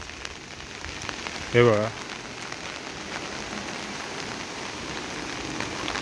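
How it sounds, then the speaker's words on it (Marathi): Heavy rain pours steadily over a swollen, muddy river in the Konkan, a dense even hiss throughout, with a brief voice speaking near the start. "पाऊसच खूप पडतो"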